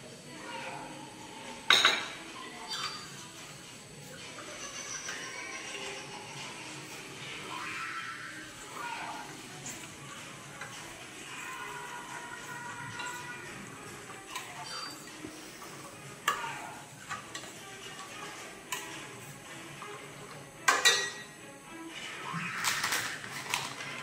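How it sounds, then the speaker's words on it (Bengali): A spoon stirs milk in a metal pot as it thickens, making soft, ongoing scraping punctuated by occasional sharp clinks and knocks against the pot's sides. "বাকি দুধটা এইভাবে নাড়তে হবে, আর এটাকে কিছুটা আরো ঘন করে নিতে হবে।"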